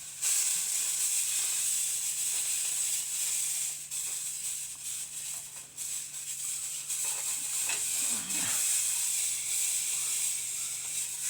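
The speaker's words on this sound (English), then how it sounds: "The sizzling is a nice sound." Steady, faint hissing sizzle of food frying in a pan, continuous throughout with a soft low hum underneath.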